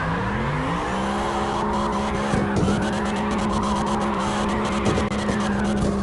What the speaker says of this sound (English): the car is just sliding around like I can't actually manipulate that.